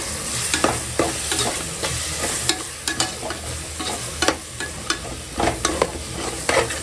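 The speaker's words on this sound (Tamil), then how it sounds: "நான் அரைச்சி வச்சுருக்க இந்த மசாலாவை இதில் சேர்த்துக்கிறேன்" Ground masala frying in a pan for mutton nalli bone kurma, with a constant sizzle and a spoon scraping and stirring in irregular close strokes, no voices.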